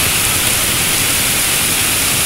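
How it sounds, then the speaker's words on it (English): Strong tropical storm wind roars as a loud, dense and steady rush of broadband noise that fills the whole stretch with no break and no voices over it. "Yo, the winds."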